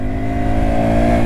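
A 2024 Honda Dax 125 motorcycle engine hums steadily and close up for a moment while the rider downshifts.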